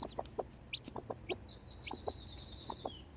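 Baby chicks cheep in short high peeps with a longer trilling call, mixed with lower clucking from nearby fowl, close and moderately loud with no talking.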